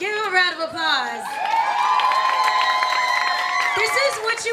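An audience at a live outdoor music event in North Miami cheers and whoops for a performer, lively crowd noise with a voice talking or singing over it near the start and end.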